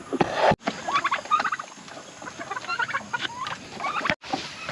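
A flock of turkeys gobbling and clucking continuously, a busy chorus of overlapping calls at moderate distance.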